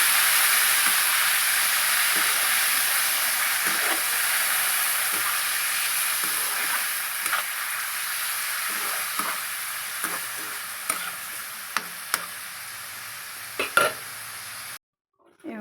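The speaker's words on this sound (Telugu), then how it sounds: "అదే ప్యాన్లో కొంచెం ఆయిల్ పోసి ఈ టమాటాలన్నీ వేసేయాలండి." Tomatoes frying in a little oil in a pan for nalleru pickle, a steady close hiss and sizzle with occasional spoon taps and scrapes, ending abruptly.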